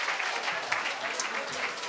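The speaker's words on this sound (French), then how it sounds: "On applaudit Pierre!" Studio audience applauding on a Québec talk show, a fairly soft, even patter of clapping from a crowd with faint voices mixed in.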